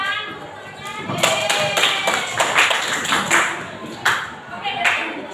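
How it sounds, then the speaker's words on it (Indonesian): Classroom applause for a classmate, scattered hand claps starting thin, swelling into a loose uneven patter of sharp close claps, then tapering off with a few last separate claps. "Beri tepuk tangan untuk temannya."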